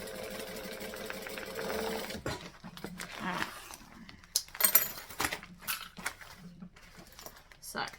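A sewing machine stitches a fabric panel, a quiet whirring run that stops partway, followed by soft handling clatter and small knocks as the work is moved.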